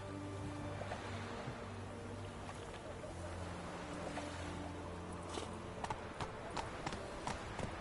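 Horse hooves clip-clopping at a trot in The Witcher 3 video game, a steady rhythmic clatter over a low ambient background, moderately close, with faint talk and music underneath.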